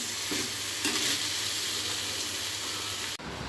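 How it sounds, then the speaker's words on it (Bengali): Sweet vermicelli (semai zarda) with raisins is stirred in a pan, giving a steady loud sizzle with a few scraping strokes before a brief drop near the end. "এখন লবণটাকেও একটু ভালোভাবে মিক্স করে নিব"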